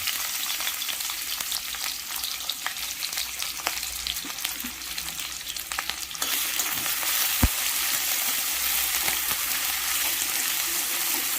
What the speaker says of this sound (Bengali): গরম তেলের উপর আমি পেঁয়াজ কোচা দিয়ে দিলাম।